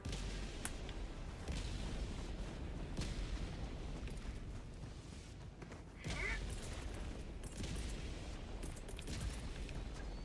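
An artillery barrage in the video game Helldivers 2, with dense rumbling booms and blasts that roll on continuously, loudest in a burst around the middle.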